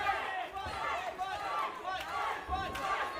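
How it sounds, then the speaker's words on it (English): Wrestling arena crowd at a tag team championship match yelling and cheering in a sustained roar, urging a wrestler on, with a commentator's voice faintly mixed in. "Julio trying to will his partner on, and the audience joining in"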